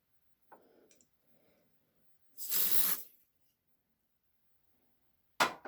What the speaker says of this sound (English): Okay, hold on, I'll do the test spray.